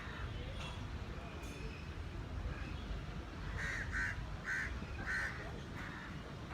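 A run of crows caw repeatedly in quick bursts of four or five calls, fairly distinct but somewhat distant, over a low outdoor background rumble.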